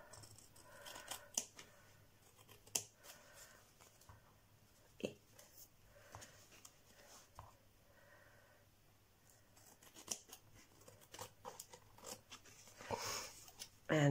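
Scissors snip off excess material in a quiet indoor setting, giving faint, irregular clicks and crisp cuts with soft handling rustle in between.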